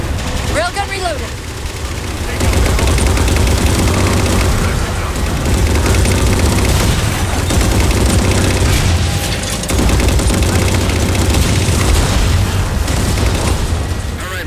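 Railgun fire shooting down Phantoms in the Halo 4 video game, heavy continuous booms and blasts that dominate the scene, with voices talking underneath.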